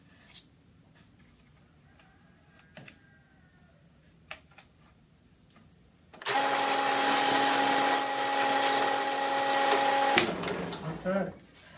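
A power drill bores through old wheelbarrow parts, a steady whirring drone of about four seconds, loud and close, following a stretch of quiet shop noise with scattered small knocks.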